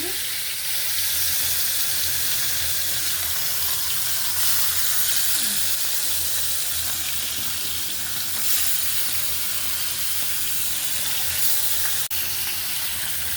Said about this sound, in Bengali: দিয়ে দিছি ফ্রাই প্যানে এখন মাছগুলো দিয়ে দিতেছি